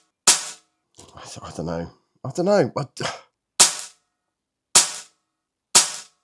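An HFT500 air rifle fires Rangemaster Sovereign pellets, giving four sharp, separate cracks spaced about a second apart, with someone speaking briefly between the first shots.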